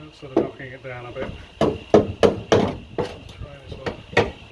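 Close, ringing blows from a ball peen hammer on the steel floor panel of a Mk2 Ford Escort come in an uneven series, following a short stretch of talking.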